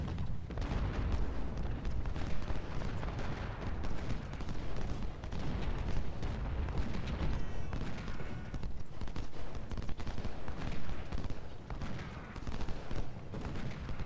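Canister artillery and massed gunfire thunder through a Civil War battle at Bull Run in Ultimate General: Civil War, a continuous, heavy rumble of booms and crackling volleys lasting throughout.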